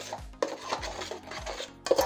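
A spoon scrapes and stirs rice flour dough in a metal pot for Koli-style ukadiche modak, with repeated rhythmic scraping strokes and clinks, close and moderately loud, no talking.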